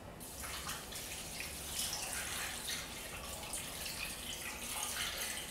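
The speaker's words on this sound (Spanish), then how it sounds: "Y le vamos a echar, no mucha agua, poquita" A small amount of water is poured into a cooking pot of beef birria, a soft, faint splashing trickle that carries on steadily with slight surges and no talking.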